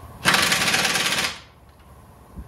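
A power tool rattles rapidly as it tightens bolts on the control arm of a 2015-2020 Chevy Malibu or Cruze, one loud continuous burst of about a second, then a quiet workshop.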